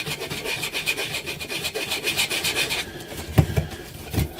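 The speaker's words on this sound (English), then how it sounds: "I'm just going to scuff that area up a little bit." A frame surface is scuffed by hand with rapid, rhythmic rubbing strokes, close and steady, followed by a few louder knocks and handling sounds near the end.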